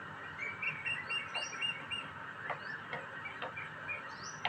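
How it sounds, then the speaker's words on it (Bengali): Morning birdsong outdoors: several birds chirp and trill in short repeated calls over a steady background hiss, fairly distant and soft, with no talking. "সকালবেলা এরকম পাখির ডাক শুনলে মনটা ভীষণ ভালো হয়ে যায়"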